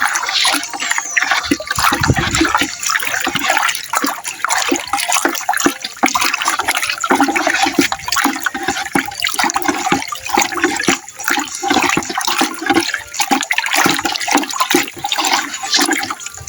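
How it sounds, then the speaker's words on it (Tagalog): Fertilizer granules are stirred into water with a stick, producing continuous loud sloshing, swirling and splashing, close and busy throughout with no speech. "i-mix po natin gamit po ang stick. Ayan po, ganyan lang po. Haluin po natin hanggang sa matunaw."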